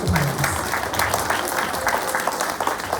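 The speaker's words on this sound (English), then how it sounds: "Give them a big round of applause for me, please." Children and staff clap at a school assembly, a dense, fairly loud round of applause that stays even from start to finish.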